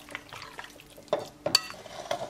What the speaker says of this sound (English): we're going to mix it one more time